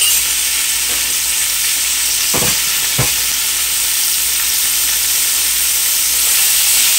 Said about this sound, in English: I'm going to start to stir fry this right now.